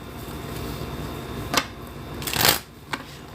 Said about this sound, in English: Riffling, riffling, riffling.